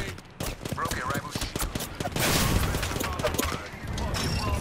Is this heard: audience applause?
no